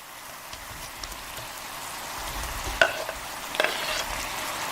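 Fried tofu dropped into a boiling seasoning mixture in a pan gives a low bubbling sizzle, with a couple of sharp clinks and splashes as pieces go in.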